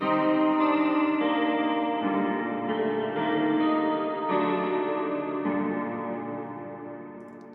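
Wide, shimmering synth chords from a guitar sampled through a telephone, with a guitar-like tone, ring out loud and sustained, shifting through several chords before slowly fading.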